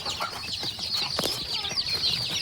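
Chickens in a cage on a Tamil poultry farm, kept with water and little feed, cluck and squawk continuously at close range over a steady high hiss, with no talk.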